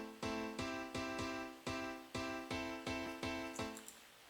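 Two layered pianos with a modulation effect play nine evenly spaced, ringing struck chords, each decaying before the next, fairly quiet and with no voices.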